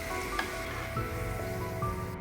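Potatoes and cauliflower sizzle steadily in hot oil in a home kitchen pan, with a utensil stirring through them now and then; the frying hiss is continuous and close, with no talking.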